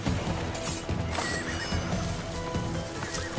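Horses in the Assassin's Creed Odyssey game neigh and whinny over a busy mix of hooves and clattering combat noise, loud and close.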